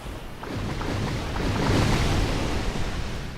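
A watery, rushing blast swells up and then ebbs in a Dark Souls dungeon, broad and hissing like surf. It rises over a couple of seconds, stays steady and loud, and no one speaks.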